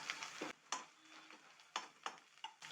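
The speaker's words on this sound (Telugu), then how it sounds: "అల్లం ఎప్పుడైనా సరే తాలింపులో వేగాలి" Quiet crackling sizzle of ginger frying in oil, with several distinct taps and scrapes of a spoon against the pan, spaced irregularly.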